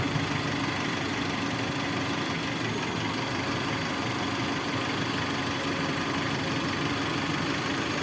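A Suzuki Escudo 1.6 engine idles with its viscous fan engaged, giving a steady, close, unbroken roar and airy whoosh with a constant hum that holds at the same level throughout, with no talking.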